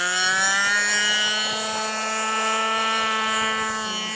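Model aircraft motor at an aeromodelling rocket-release demonstration in Santa Cruz do Rio Pardo, a steady, loud, high-pitched buzzing whine holding a constant tone throughout.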